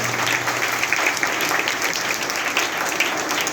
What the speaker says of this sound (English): Please clap for our constitution.